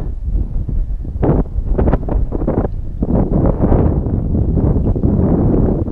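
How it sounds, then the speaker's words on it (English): Strong outdoor breeze of about 13 mph buffets the microphone with loud, continuous low rumbling gusts that rise and fall, near and unbroken, with no voices. "Oh, there's a nice breeze"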